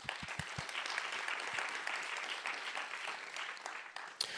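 Audience applause at a general assembly session, steady crowd clapping that lasts several seconds with a few louder claps near the start.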